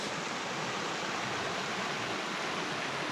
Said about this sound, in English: So Clark's Creek is supposedly a really good trout stream